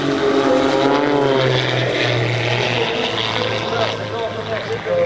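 A 330-horsepower propeller engine on an aerobatic airshow plane drones steadily and fairly loud, with a pulsing tone. An announcer talks over the engine noise.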